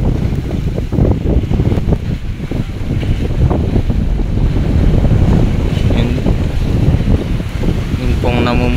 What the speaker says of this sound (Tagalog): May low pressure po. Ay, medyo maalon ngayong araw.